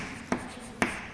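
Two short, scratchy strokes of a pen writing out a maths solution, spaced about half a second apart, close and fairly quiet against a soft background hiss.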